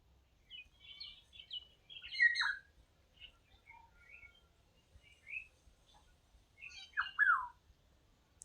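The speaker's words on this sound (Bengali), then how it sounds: "হয়তো বা আমার এই রান্নার পাশাপাশি কিছুটা পাখির ডাক শব্দ শোনা যেতে পারে" Small birds chirp and call outdoors beside a village cooking spot in cool, breezy weather, faint scattered tweets with two brighter, louder calls, no voices.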